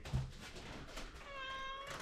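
A house cat meows close by indoors, one drawn-out meow near the end after softer shuffling sounds.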